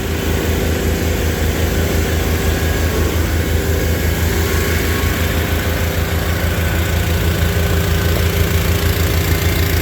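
An Onan gas engine and a Perkins diesel idle together just after a cold start, a loud, steady low rumbling chug with a fast, even pulse throughout and no voices.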